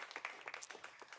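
An audience at a New York City mayor's event on clean infrastructure and electric school bus funding gives a brief, faint burst of scattered clapping.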